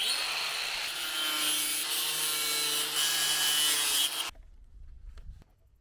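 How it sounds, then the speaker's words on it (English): An angle grinder cutting through a 45-degree pipe fitting: a loud, steady high-pitched whine with harsh grinding hiss, close by, running for about four seconds and then cutting off sharply, leaving only faint handling noise. "I'm gonna go ahead with the angle grinder."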